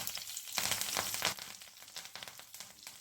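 Curry leaves sizzling in hot oil with mustard seeds and onion for uluva (fenugreek) curry, a soft crackling fry with a few louder spitting bursts in the first half that ease into a quieter sizzle.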